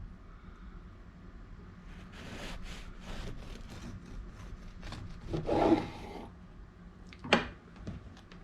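A knife saws through a crusty sandwich bread loaf with a repeated rasping, scraping rhythm, building to a louder crunch near the end, close by.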